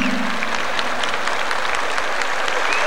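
A concert audience applauding a band, dense sustained clapping from a large crowd, loud and even throughout with no pause.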